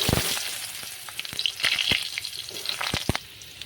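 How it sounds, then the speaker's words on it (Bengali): Potatoes frying in oil in a wok with a little turmeric, a close, steady hissing sizzle broken by a few sharp crackles and stirring knocks. "একটু হলুদ দিয়ে আলুগুলোকে হালকা করে ভেজে নেব"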